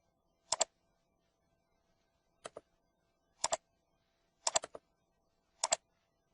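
Keys tapped on a computer keyboard in short, separated bursts of two to four clicks, close and crisp against a near-silent room.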